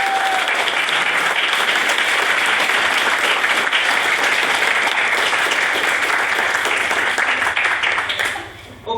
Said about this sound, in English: If I could please ask for another round of applause for what was Miss Nev Smith's maiden speech